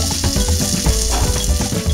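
Barbecue sausage starting to cook in a pan on a stove, giving a loud, steady, close sizzle and crackle of frying with no voices.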